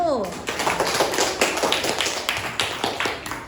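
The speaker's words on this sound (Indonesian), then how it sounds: "Tepuk tangan untuk kelompok 1." A fifth-grade elementary school class claps for a student group, a brisk, fairly loud patter of many small hands keeping a loosely rhythmic beat after a brief voice at the start.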